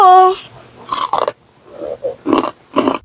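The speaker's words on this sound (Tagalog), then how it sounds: "Malutong na paa ng manok, kain pati buto." Several crisp crunching bites into crunchy fried chicken feet, bones and all, about four bursts spaced through the clip, close up, after a brief tonal sound at the start.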